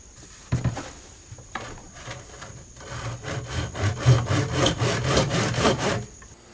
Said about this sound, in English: I've got a drywall pail here and a handsaw, and I'm gonna hack this bad boy up a little